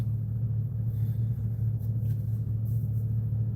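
A car driving along a road, its engine giving a steady low rumble up close, with faint road and wind hiss and no talking.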